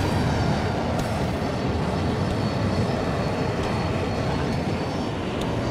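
F-35 fighter jet in the video game Battlefield 2042, a loud, steady roar of jet engine and rushing air that fills the whole stretch without break, with no talk over it.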